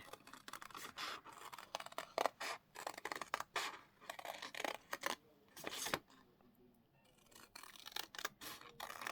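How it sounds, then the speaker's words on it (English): Scissors snip out a paper shape for a robot mushroom craft, with a close, quiet series of crisp cuts and scratchy paper rustles in uneven bursts. "I can cut out another one. Let's just cut one out."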